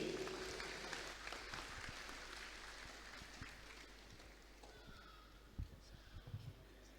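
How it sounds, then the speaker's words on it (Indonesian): Sustained applause from a large audience at a 2022 university graduation ceremony, welcoming a professor's scientific oration; a dense, steady wash of clapping that gradually thins toward the end. "Beri tepuk tangan yang meriah"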